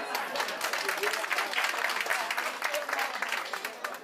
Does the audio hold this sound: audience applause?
yes